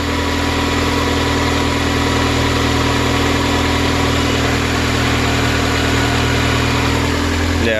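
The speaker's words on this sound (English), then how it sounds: "Oh, there's a fan. Let's see how long it stays on." A turbocharged Honda D16 engine idles steadily up close while its radiator cooling fan runs, a constant even hum and whir with no breaks throughout.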